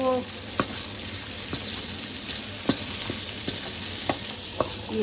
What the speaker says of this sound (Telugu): సో ఇలా మనం బాగా ఫ్రై చేసుకోవాలి ఇవి మగ్గే వరకు